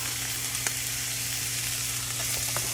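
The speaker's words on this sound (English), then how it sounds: "we're just gonna saute this for 2 to 4 minutes" Corn kernels and scallion whites sizzle steadily in a hot pan, a constant loud frying hiss with a few faint pops and clicks, no talking.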